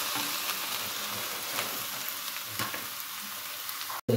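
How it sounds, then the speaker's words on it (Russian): Eggplant pieces sizzle and crackle in hot oil in a pan, a steady broadband frying hiss with occasional pops, close and continuous, ending with a brief cut and a louder clatter. "Также обжариваем баклажаны."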